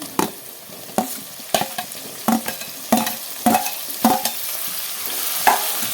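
Chopped tomato and chilli powder frying in a pan for a raw mango fish curry, with a hissing sizzle under regular scraping strokes of a spoon, close and fairly loud.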